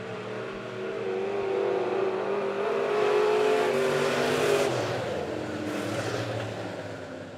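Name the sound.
dirt track modified race cars racing during a heat race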